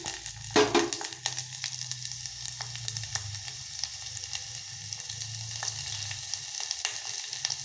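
Onion and garlic sizzle in a little oil for a kaayi bajji saaru, a sharp burst as they drop into the pan, then a steady close crackle without speech.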